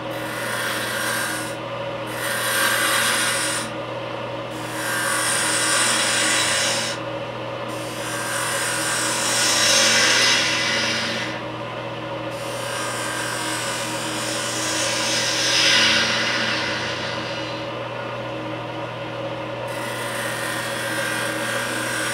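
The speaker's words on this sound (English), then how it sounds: "I'm going to cut from a larger diameter down to a smaller diameter, and I'm going to create an elongated cove" A wood lathe spins while a gouge cuts a long cove on a wooden spinning top, a continuous rough rasping hiss over the motor's steady hum, rising and fading in sweeps as the tool travels, with no voices.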